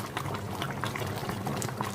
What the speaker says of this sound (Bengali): এই যে একটু ঝোল দিয়ে দিলাম।